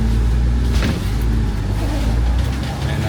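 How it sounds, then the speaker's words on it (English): A double-decker bus rumbles past on a Hong Kong street, a loud close low engine drone that stays steady throughout with a brief whoosh near the start. "And a double-decker bus."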